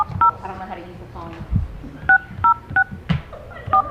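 Telephone keypad dialing tones, a series of short paired beeps pressed one at a time with uneven gaps, loud and close, with a voice murmuring between them.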